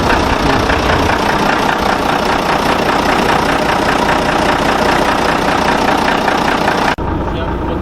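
Fiat Agri 180-90 Turbo Star tractor idling up close, a loud, steady, rough diesel chug with a constant knocking rhythm that carries on unbroken before dropping slightly near the end.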